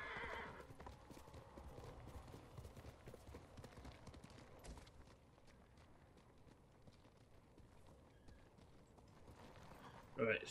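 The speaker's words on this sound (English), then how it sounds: "You are a good horse, Kage." A horse in the video game Ghost of Tsushima, rapid hoof clip-clops at a steady gallop rhythm with whinnying, quiet and continuous, with a burst of neighing at the end.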